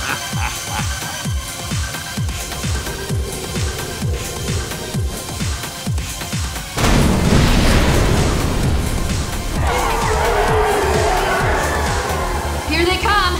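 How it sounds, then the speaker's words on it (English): A cannon fires with a heavy explosive boom in Left 4 Dead 2, cutting in loud and sustained over a busy, rhythmic game soundscape with crowd-like noise behind it. "Somebody fire the goddamn cannon!"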